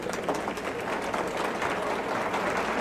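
An audience at a 1993 gubernatorial debate applauds, a steady wash of clapping heard fairly faintly throughout.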